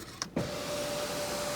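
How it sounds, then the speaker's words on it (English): The power sunroof of a 2025 Kia K5 GT-Line slides open, a couple of soft clicks followed by a steady, quiet electric motor whine that runs on evenly inside the cabin. "So we're gonna open up the sunroof and I'm gonna show y'all."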